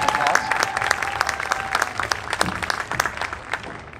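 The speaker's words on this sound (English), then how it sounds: "So let's give Tish a round of applause." Audience applause at a high school band parent performance evening, a steady dense wash of clapping from a seated crowd that stays loud throughout with a faint voice over it near the start.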